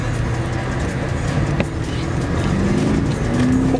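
A 2016 Mercedes S550 4Matic Coupe in sport mode gives a steady, droning engine note from inside the cabin, and the pitch climbs as it accelerates toward the end.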